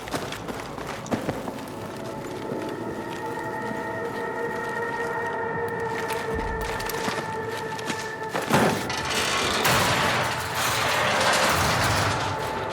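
An elevator mechanism in the video game Battlefield 6 grinds and ratchets with steady gear clatter and a droning whine, swelling louder toward the end amid scattered clanks.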